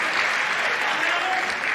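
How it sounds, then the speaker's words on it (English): Padel fans in the stands at a Pro Padel League final applaud steadily, a dense, even wash of clapping that holds at the same loudness throughout. "And the fans applauding."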